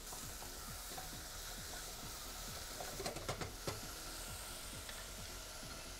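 Small diced potatoes drop into a pot of frying bacon and onions for fish chowder, bringing steady sizzling under repeated stirring and scraping, with a cluster of sharper clatters midway and no talk.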